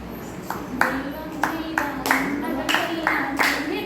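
A steady run of about nine sharp hand claps at a church youth New Year celebration, evenly paced and fairly close, with a continuous low voice or hum sustained underneath.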